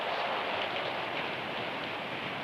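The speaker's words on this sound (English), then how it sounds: "Rain begins to fall and steadily increases." Rain falls as a tropical storm approaches at sea, a steady, dense hiss of moderate loudness with no voices.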